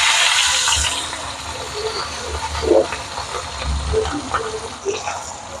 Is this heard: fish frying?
yes